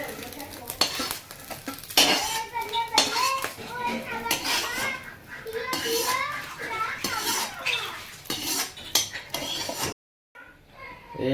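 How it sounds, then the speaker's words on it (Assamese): Metal utensils clink and scrape against a pan as a fried egg is cut up during fried-rice cooking, with busy irregular clatter and faint sizzling. Voices, including a child's, talk in the background, and the sound cuts out briefly near the end. "ডিমটো কাটি লৈছোঁ।"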